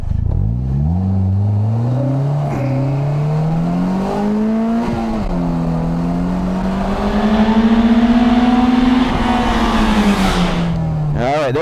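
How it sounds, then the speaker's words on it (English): A Polaris Slingshot with a 2.4 liter Ecotec engine launches from 0 to 60 mph, its engine note climbing steadily through the gears with brief dips at each shift, loud and continuous. "0 to 60 running the Polaris Slingshot."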